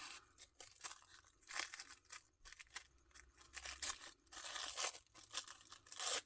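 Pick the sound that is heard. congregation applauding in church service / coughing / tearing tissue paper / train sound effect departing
tearing tissue paper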